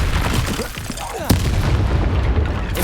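Spell explosions burst in the video game Hogwarts Legacy, with a sharp booming blast standing out midway over a dense, rumbling wash of game effects and music.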